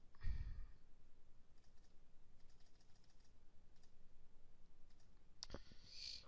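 Computer mouse clicks at a desk while working in Microsoft Access, selecting database table fields: a couple of short, sharp clicks, one early and a brighter pair near the end, over faint room hiss.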